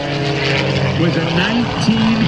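A Pitts biplane, a 1946 Curtis Pitts design, flies aerobatics at an airshow, its propeller engine droning and swelling in pitch through the maneuvers while an announcer talks over it.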